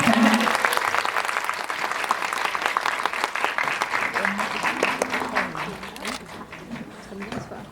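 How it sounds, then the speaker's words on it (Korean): A large cinema audience at a Megabox COEX film screening talk applauds continuously, a dense wash of clapping with faint voices mixed in, thinning toward the end. "다 참석하실 때까지 조금만 더 길게 박수를 칠까요"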